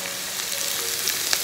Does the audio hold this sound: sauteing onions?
yes